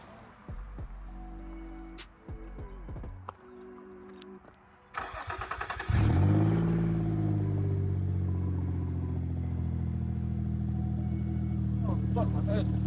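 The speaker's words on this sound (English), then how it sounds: "I'm gonna record the engine." A Nissan G35 engine is cranked and starts, then runs with a loud, steady idle that swells briefly like a rev; clicks, shuffling and voices come first, before the start.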